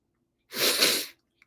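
A single close, loud human sneeze: one sharp half-second burst with a breathy onset, followed by near silence and a faint tiny click.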